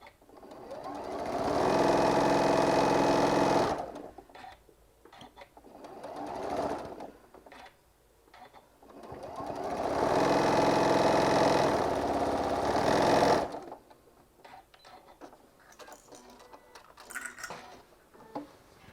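A sewing machine stitches a hummingbird quilt panel in two long bursts of rapid whirring, with short stop-start runs and quiet handling noises in between.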